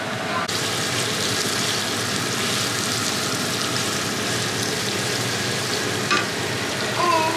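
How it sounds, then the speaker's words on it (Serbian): Meat frying in an oiled pan gives a dense, steady sizzle close by, with a brief clatter near the start and a faint tap-like splash toward the end. "Krećemo da pržimo meso."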